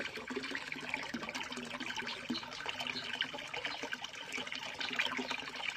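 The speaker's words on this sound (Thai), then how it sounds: "เปิดน้ำทิ้งไว้ในอ่างก่อน พักน้ำไว้" Tap water runs steadily into a lotus basin, a continuous close splashing trickle that holds an even level throughout, with no voices.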